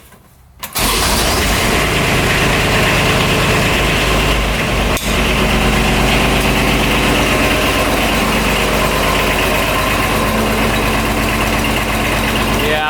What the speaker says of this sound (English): All right, crank it over.